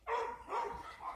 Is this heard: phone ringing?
no